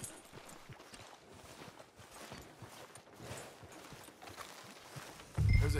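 Horse hooves clip-clopping at a walk in the Red Dead Redemption 2 video game, a soft steady patter of steps under faint ambient noise, ending with a sudden louder low thump.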